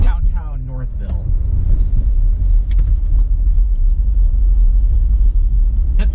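A car accelerating hard as it passes along Joy Road in Canton, Michigan: a loud, rising engine roar and road rumble heard from inside a moving vehicle with wind noise, a brief voice at the start.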